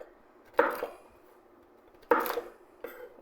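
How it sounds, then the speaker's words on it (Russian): A knife coarsely chops walnuts on a board for an apple pie: three sharp, close chopping thuds spaced unevenly, with quiet kitchen background between them. "Я люблю, чтобы орехи чувствовались в этом тесте, поэтому мы их нарезаем немножко крупненько"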